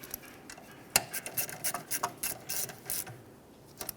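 A hand ratchet snugging a brake bracket bolt on a 2012-2020 Ford Focus during wheel cylinder replacement, giving a run of quick, close, crisp metallic clicks in uneven bursts.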